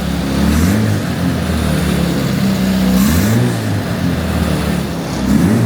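A race car's faulty engine runs with a rough, clattering drone that rises and falls in pitch in a few revving swells, loud and continuous with no talk.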